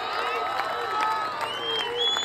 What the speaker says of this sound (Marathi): जरा टाळ्यांचा गजर चालू राहू द्या